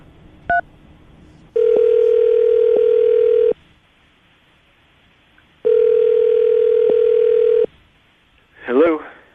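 A telephone call to a landline: a short dialing beep, then two long steady ringback tones separated by silence, loud and close, followed by a brief voice at the end.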